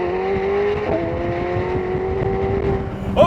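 A 2024 McLaren 750S with a 4-liter twin-turbo V8 drones steadily and moderately loud, holding an even pitch before a brief rising rev at the end.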